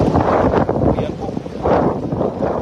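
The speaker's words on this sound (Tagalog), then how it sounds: "Ang lakas ng hangin" Strong wind buffets the microphone at sea during net fishing from a boat, low rumbling gusts that swell and ease, with voices talking over it.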